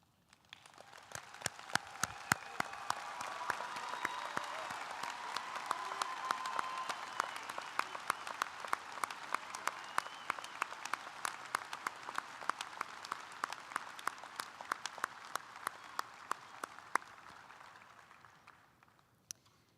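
A commencement crowd at a community college applauds honor graduates as they stand, a sustained dense wave of clapping for nearly twenty seconds with crisp individual claps on top, swelling quickly and tapering at the end.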